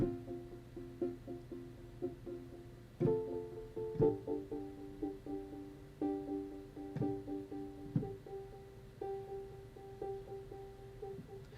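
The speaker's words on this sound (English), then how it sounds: "I've got another one that's called Believe Pulse, and basically this has an arpeggiator on it to pulse the sound" A keyboard synth patch called Believe Pulse, its arpeggiator pulsing steady tempo-synced notes over sustained chords, with stronger chord strikes every second or so, moderately quiet and free of talk.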